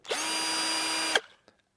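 A cheap cordless drill from Amazon whirs at a steady high speed for about a second, close and fairly loud with its gears audible, then stops abruptly and a light click follows.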